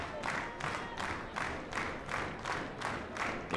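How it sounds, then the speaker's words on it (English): A softball crowd at a Louisiana vs Tulsa women's game claps in unison with two strikes on the batter, a steady beat of loud group claps roughly every half second, continuing evenly throughout. "The rhythmic clapping starts with the 2 strikes"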